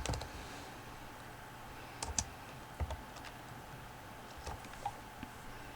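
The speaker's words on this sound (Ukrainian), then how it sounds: "Переходжу, натискаю Enter і переходжу в потрібну мені комірку." Sparse, quiet clicks of keys being pressed on a computer keyboard while entering data into spreadsheet cells, a few isolated taps spread over several seconds against a low steady room hum.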